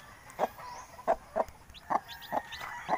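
Black Hulohano chicks and their mother hen give short soft clucks and peeps, about one every half second. The calls are close and fairly quiet and repeat in an uneven rhythm against a faint background.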